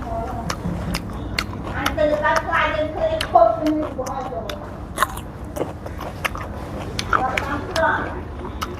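Crisp crunching and chewing of sour pickled flowers eaten with grilled fish, heard close up as repeated bites under steady talking.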